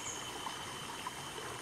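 River water flows steadily where children are about to bathe, a soft continuous trickling rush heard alone at low volume.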